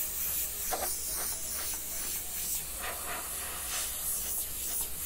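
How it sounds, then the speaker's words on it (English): Airbrush spraying paint in short bursts of strokes while custom painting a Jeep dash with a Disney Lilo and Stitch design; a steady, close, airy hiss that rises and falls slightly with each pass, with no talking. "if you guys know how to paint hair when you airbrush like this, same thing"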